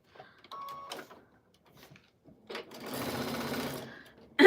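A long-arm sewing machine backstitches through a quilt, its fast mechanical stitching chatter swelling for about a second and a half after a few soft clicks and handling noises.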